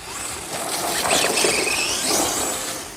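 Upgraded RC monster truck running on a 6S battery with locked diffs and a large pinion, its electric motor emitting a loud, sustained high-pitched scream that rises and falls, with no talk over it.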